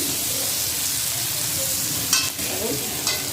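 Potatoes frying lightly with salt in a pan for a Bengali fish curry give a steady, close sizzle throughout, with a couple of brief sharper scrapes or crackles near the end and no talking.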